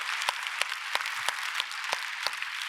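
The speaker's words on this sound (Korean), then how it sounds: "하나님 앞에 박수로 영광을 돌립니다." A church congregation at a Korean Sunday worship service claps together in a steady, even rhythm, each beat crisp and evenly spaced over a soft background wash.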